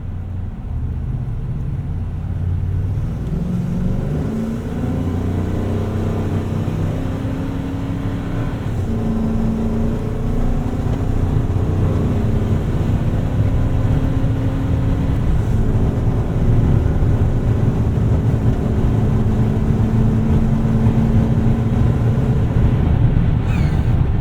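A 26-foot U-Haul box truck engine drones and pulls steadily as it accelerates on a highway, holding its gears, with a loud continuous cabin rumble and no talking.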